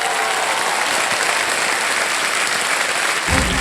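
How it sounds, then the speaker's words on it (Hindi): Loud, dense applause from a TV quiz show studio audience fills the space steadily for several seconds, then a brief low thump comes in near the end. "जोरदार तालियां"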